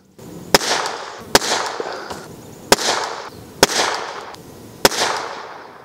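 Tikka T1X rifle fired from a ute, five sharp, loud close-range cracks spaced roughly a second apart, each followed by a short rolling echo that fades before the next shot.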